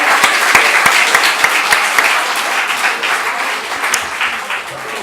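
A church congregation at an afternoon Sunday service claps together, a dense, loud burst of applause that holds for several seconds before tapering slightly.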